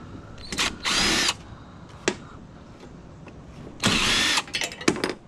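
Power drill backing screws out of an arc welder casing, two loud whirring bursts of about half a second each separated by a pause, plus a few short clicks and taps nearby.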